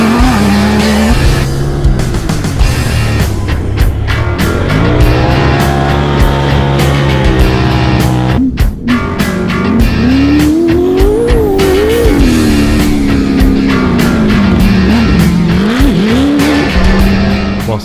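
Engines of off-road race vehicles at the Kalgoorlie Desert Race in open desert country roar loudly and continuously, revving and shifting through rising and falling pitches with rattling, gritty texture and no break.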